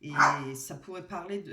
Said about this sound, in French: Excusez-moi, c'est mon chien.